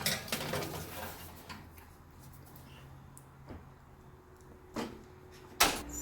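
Chicken puff pastry patties go into an oven set to 350 degrees: quiet kitchen handling with faint tray and rack clinks, then two sharper clunks of the oven door near the end, close by with no talking.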